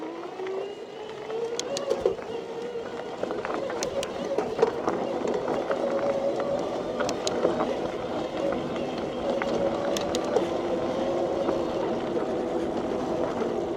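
A Vanpowers Grand Teton Ultra e-mountain bike's mid-drive motor, driving the chain to the rear wheel in first gear, hums and whines steadily with faint chain and tyre noise over about fourteen seconds, recorded outdoors.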